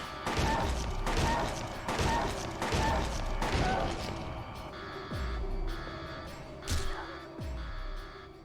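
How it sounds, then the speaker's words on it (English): Gunfire in Silent Hill 2 rings out as a steady series of loud, booming shots, roughly one per second with heavy low thumps. A voice speaks faintly underneath. "I'm shooting something!"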